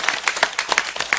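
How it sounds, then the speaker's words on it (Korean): Church congregation claps for the children in a short burst: a handful of crisp, separate claps in a quick, fairly even rhythm, close and loud. "우리 박수 한번 쳐드리겠습니다."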